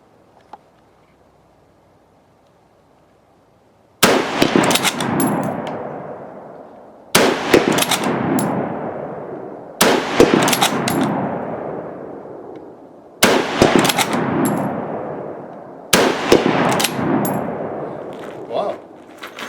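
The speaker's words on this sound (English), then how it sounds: "it sure is strange to shoot a Lee Enfield that is scoped" A scoped Lee Enfield sporter rifle fired at an outdoor rifle range. Five loud, sharp shots come at a fairly even pace a few seconds apart, each one trailing off in a brief echo. Before the first shot there is only quiet background.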